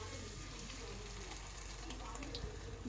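Tomato and onion frying in a pan as the base for a Mangalore-style fish pulimunchi masala, a steady close sizzle that runs without a break.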